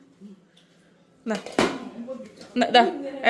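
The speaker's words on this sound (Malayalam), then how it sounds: "ആ മൂടി ഇവിടെ വെച്ചേക്ക്" Metal pot lid set down in a home kitchen with clinking cookware, a few sharp clattering knocks amid nearby talk, close and moderately loud.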